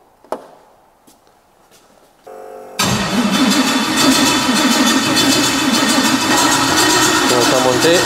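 A V8 car engine, with its relays disconnected for oil priming, is cranked with a short starter whir and then catches. It settles into a loud, steady, rough idle close by, and a voice is heard briefly before it starts.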